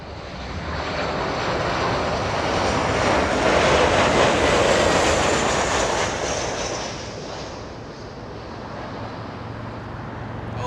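A Boeing 737-800 airliner on a United flight from Honolulu lands at Los Angeles International Airport, its broad engine roar swelling loud and near and then easing off as it passes, with no talk over it.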